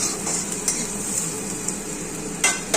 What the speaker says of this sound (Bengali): কয়েকটা ক্যাপসিকামের টুকরো দিয়ে দিলাম, দিয়ে এটা খুব ভালো করে ভাজবো